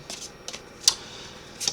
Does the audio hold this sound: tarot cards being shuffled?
yes